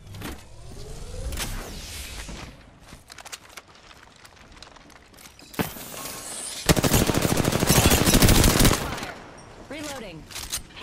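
Gunfire in the Apex Legends video game, scattered shots and short bursts early on, then a long, loud rapid automatic burst, with mechanical reload clicks and game effects mixed in.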